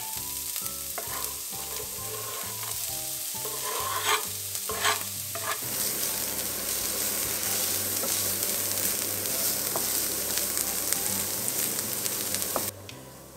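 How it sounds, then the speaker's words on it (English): Finely chopped onions fry and sizzle steadily in a pan while being stirred, with scraping clatter of the utensil early on and a continuous close, moderately loud sizzle throughout. "after cutting our onions in the smallest pieces possible, we're gonna go and cook them until they're all soft"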